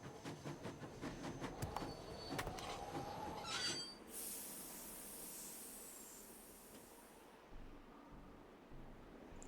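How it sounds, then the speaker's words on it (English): A train pulls out of the station in the Nancy Drew game Last Train to Blue Moon Canyon, with rumbling wheels and clanks giving way to a long high hiss of steam that fades to near quiet, heard alone and fairly faint. "Sounds like the train's leaving."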